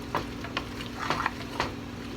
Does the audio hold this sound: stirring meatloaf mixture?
yes